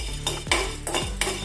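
Whole cloves and spices being dry-roasted in a metal pan for mango pickle, a utensil scraping and clinking against the pan in a few distinct strokes, close and moderately loud, with no voices.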